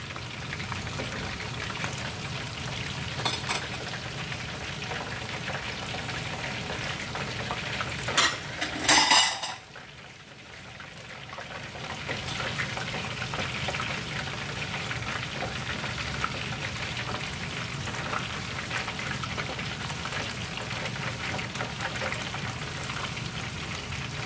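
Battered shrimp deep frying in oil for chili shrimp give a continuous soft sizzle and bubbling, with a brief clatter of utensils against the pot partway through before the steady frying resumes.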